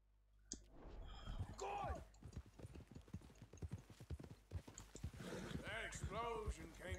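A horse gallops in Red Dead Redemption 2 with rapid, close clip-clop hoofbeats under a quick burst of game dialogue, followed by snorts or whinny-like calls near the end.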